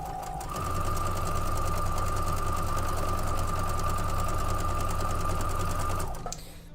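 A sewing machine stitches jelly roll quilt strips together in one steady, fast, continuous run of close mechanical whirring lasting several seconds before stopping.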